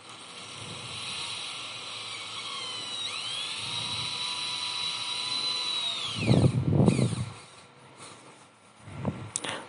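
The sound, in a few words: drilling a hole in PVC pipe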